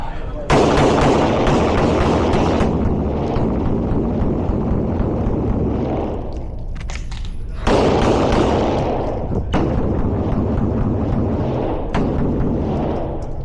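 Pistol shots ring out in rapid bursts during a shooting match, loud and close, with a short pause partway through before the firing resumes at a quick pace.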